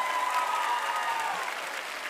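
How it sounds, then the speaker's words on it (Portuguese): Brazilian TV variety show studio audience claps in a warm round of applause, a dense steady patter of many hands that gently tapers toward the end without any talking on top. "Uma salva de palmas pra Ina, pra Francine, Caroline, Eline e Bárbara."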